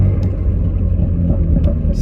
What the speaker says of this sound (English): Those pops are immediately coming out.